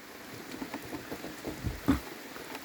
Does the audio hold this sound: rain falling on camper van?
yes